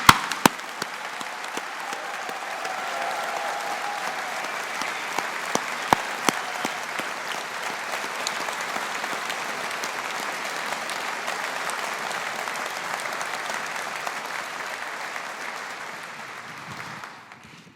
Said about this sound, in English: with a round of applause from us all